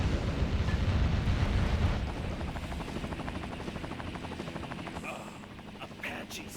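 Apache attack helicopters in the video game Metal Wolf Chaos give off a loud, low rotor roar with a steady chopping pulse. The roar fades to a thinner whir, and a few brief sharper noises come near the end.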